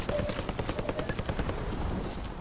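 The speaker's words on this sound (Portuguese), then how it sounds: "Olha o helicóptero." A helicopter in Call of Duty: Modern Warfare beats overhead, its rapid rotor thumps pulsing steadily beneath a dense layer of game noise.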